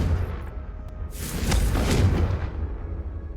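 A Confringo blasting spell detonates in a Hogwarts video game, a deep booming blast with a rising whoosh that swells to a peak around the middle and then rolls off over a steady low rumble.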